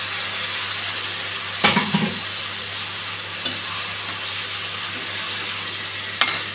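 Potatoes and ridge gourd sizzle in a frying pan with spice paste for a fish curry, a steady close hiss punctuated by a few sharp clanks and scrapes of a utensil against the pan.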